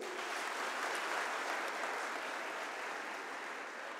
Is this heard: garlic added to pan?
no